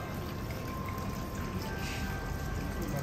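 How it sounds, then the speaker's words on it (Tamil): Water fills a pot and steadily spills over at an outdoor market display with artificial flowers, a continuous soft pouring trickle heard close and fairly quiet, with no talking. "தண்ணி நிரம்பி அழகாக வழிஞ்சிக்கிட்டே இருக்குது."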